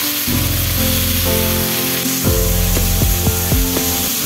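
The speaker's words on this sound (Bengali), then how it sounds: "আলু কুচি মশলার সাথে মিশিয়ে 2 থেকে 3 মিনিট ধরে ভেজে নেব" Shredded potatoes with salt and turmeric frying in a pan, a loud steady sizzle broken by repeated scraping strokes of a spatula, with no talking.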